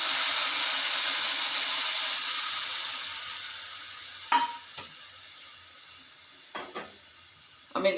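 Tamarind juice and lemon juice hit a hot pan with a loud, steady sizzle that slowly fades, broken by a few sharp clinks of a utensil against the pan.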